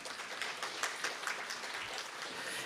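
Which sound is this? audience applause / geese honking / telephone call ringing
audience applause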